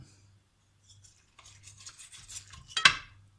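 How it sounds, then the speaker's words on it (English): A sharp knife slicing into a baked bacon, beef and cheese keto meatloaf, with soft scraping and cutting rasps that build to a louder crunchy scrape near the end, close up with no talk. "Grab a sharp knife, cut into it."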